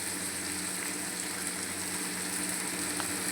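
Onions fry in oil with salt for an aloo tamatar sabzi, giving a steady, dense hiss of oil that holds even from start to finish with no talking.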